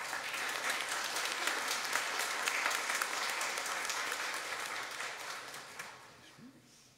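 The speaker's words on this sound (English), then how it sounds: "May we respond with an acclamation and applause." A church congregation applauds during a baptism service, a sustained wash of clapping from many hands at moderate distance that gradually tapers off near the end.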